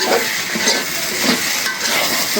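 Spices hiss and crackle loudly in a pan as they are fried for a chicken curry with tomato and potato. The sizzle is dense and steady and close to the listener, with faint stirring swells and no speech.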